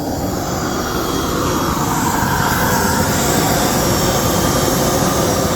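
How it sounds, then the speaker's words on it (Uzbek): A coal-fired burner runs with its blower motors on, giving a loud, constant roar of rushing air and combustion, close by and unbroken for the whole stretch. "mana ko'mir garelkamiz yonish holatlari, motorlar ulangan holati"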